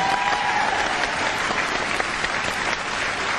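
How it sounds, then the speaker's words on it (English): Audience applause at a live ghost-hunting show, a dense, steady burst of clapping from a crowd that fills the whole moment without a break. "a round of applause, please."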